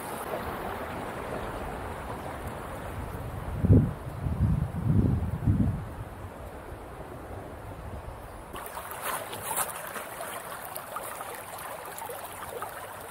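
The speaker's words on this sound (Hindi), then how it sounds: "यहाँ झरना भी है" A waterfall pours over a small dam in Achanakmar Wildlife Sanctuary, making a continuous, even rush of water throughout, with a few low thumps of nearby handling partway through.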